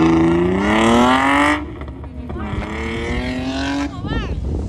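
Drift cars revving hard on a circuit, a loud harmonic engine note climbing then holding, followed by a second rising rev and a sharp burst of squeal near the end, with people talking over it.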